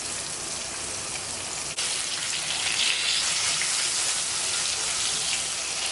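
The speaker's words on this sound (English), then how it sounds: "I'm just gonna fry each piece for about 10 minutes on each side" Taco pieces fry in a pan with a bright, continuous sizzle. It holds steady throughout, with one brief click partway through, and no one speaks.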